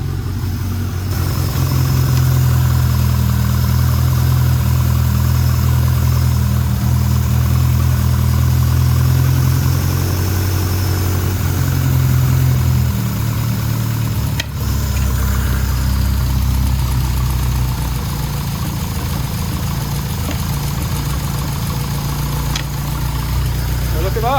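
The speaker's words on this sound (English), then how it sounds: "Idling may be a little bit high, but we can adjust that." A Lotus Elan sports car engine idles steadily, slightly high, with a deep, continuous rumble throughout, its low hum shifting slightly partway through, with faint voices talking over it.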